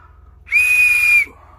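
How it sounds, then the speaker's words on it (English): Small whistle from a sardine-can survival kit blown once, a loud, steady, shrill tone lasting under a second, close and alone against faint background hum. "we got a whistle."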